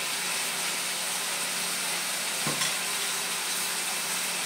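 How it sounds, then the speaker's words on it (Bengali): Coriander and cumin powder sautéing in a hot pan for a vegetarian cauliflower dish, a steady soft sizzle and hiss with one brief clatter in the middle, no talking. "এইগুলো মশলাগুলো ভালো করে কষে নিয়ে"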